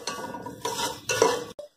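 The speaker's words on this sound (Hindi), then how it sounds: "अब मैं शिमला मिर्च डाल रही हूँ" A metal spoon scrapes and stirs in a pan as capsicum goes in with carrots frying in oil, three short clattering bursts of utensil against cookware, close and alone without speech.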